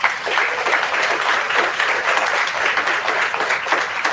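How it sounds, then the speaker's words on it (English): Sustained audience applause at a live awards event for new parents, with loud, even clapping throughout and no one speaking over it. "Another round of applause for him."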